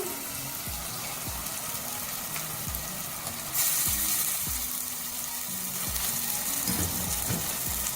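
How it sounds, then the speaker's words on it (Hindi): Goat mutton sizzles and crackles in hot masala as it is fried, a dense, hissing frying noise that jumps louder midway when more meat goes in, with soft thuds of stirring beneath. "इसको मसाले के साथ डाल के भूनेंगे।"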